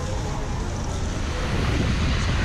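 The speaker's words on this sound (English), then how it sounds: "The gusts are pretty good." Loud, constant roar of strong, gusty wind buffeting the microphone in cold, rainy Iceland, a dense rushing noise with no let-up.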